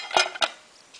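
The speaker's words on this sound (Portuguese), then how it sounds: "Você acopla e ela vira uma panela." A metal pot clip attaches to camping cookware with two sharp metallic clinks close by, followed by a faint rattle and no talk.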